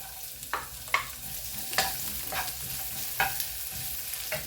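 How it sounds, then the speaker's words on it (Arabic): Garlic and onion fry in a pan while being stirred, a low continuous sizzle broken by several sharp scraping stirs at irregular intervals, close by and with no voices. "نضيف عليها واحد شويه الثومه نحمروها، ونضيفوا عليها البصل ديالنا"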